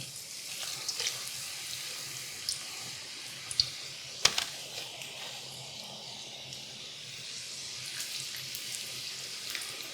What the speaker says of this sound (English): More frying, double fry.